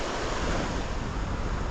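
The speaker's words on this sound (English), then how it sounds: "But yeah, it's just so windy." Strong wind roars steadily across an open beach on St. Thomas, U.S. Virgin Islands, buffeting the microphone with broadband rumble, with surf washing in the background.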